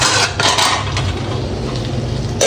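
A lid set onto a pot of rice on the stove in a home kitchen, with a short close metallic clank at the start and another at the end, and a low steady background hum in between.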